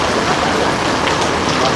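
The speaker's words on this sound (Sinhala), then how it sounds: "මම පේනවා ටිකක් වැස්ස තද කළා මේ වෙලාවේ" Rain coming down harder outdoors on a trip in Phuket, Thailand, as a dense, steady, close wash of falling water with no break.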